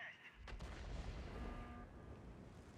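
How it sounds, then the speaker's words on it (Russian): Artillery fire in the 114 SP2 tank video game: one heavy booming shot with a sharp onset and a long rumbling low tail. A voice talks faintly underneath. "Арта бубышками стреляет"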